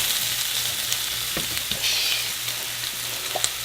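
Shrimp and vegetables finishing in a hot pan give a constant bright, hissy sizzle, close and even, with a few soft clicks of stirring scattered through and no talking.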